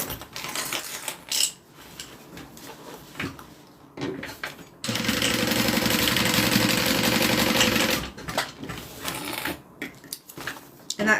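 A sewing machine top-stitches along the edge of a bag's outside piece in one steady run of a few seconds, with clicks and fabric handling before and after it.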